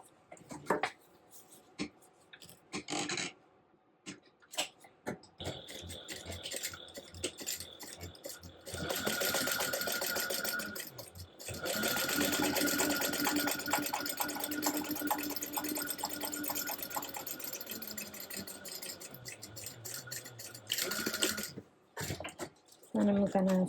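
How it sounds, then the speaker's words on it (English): A sewing machine stitches a quarter-inch seam allowance: a few short starts, then long runs of steady mechanical whirring and needle clatter, with pauses between and a voice heard at times. "I'm going to sew a 1/4 inch seam allowance right down here."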